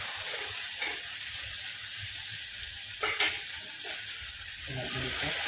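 Tomatoes sizzle steadily in a hot tempering of curry leaves, ginger paste and chilies, a close, continuous frying hiss with occasional stirring scrapes and brief faint voices.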